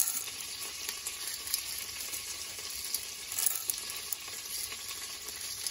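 Chana dal frying in hot oil for a Mysore-style hotel chutney, a steady, close crackling sizzle with soft bubbling that holds evenly throughout, no voices.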